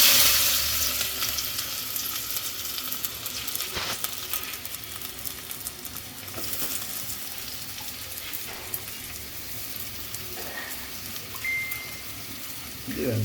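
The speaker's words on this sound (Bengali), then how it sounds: "তো আমরা ডিমটা ভুনা করবো।" Eggs frying in oil in a pan for egg bhuna, a loud continuous sizzle with crackles and occasional spatula scrapes, while people talk over it.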